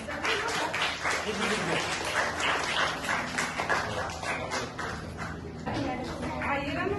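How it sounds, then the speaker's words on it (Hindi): Audience at a girls' school ceremony applauding for their teachers, a dense crowd clapping mixed with overlapping voices and some shuffling throughout. "एक बार जोरदार तालियां अपने टीचर्स के लिए"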